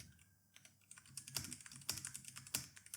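Keys clatter on a computer keyboard as a prompt is typed into Chrome, a quiet run of uneven clicks building to several sharper, louder strokes, with no voices present.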